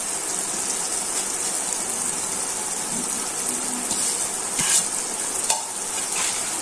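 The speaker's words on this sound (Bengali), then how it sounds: "মাছটা তো ভাজা প্রায় হয়ে গেছে।" River poa fish frying in a pan, a steady close sizzle and crackle of hot oil with faint clinks of stirring, the frying continuous throughout and no talk heard.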